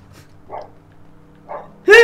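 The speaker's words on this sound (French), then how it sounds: "C'est le chien dans Men in Black." A dog from the Men in Black film gives two short, soft yips followed by one louder, sharper bark, heard alone and close against a quiet background.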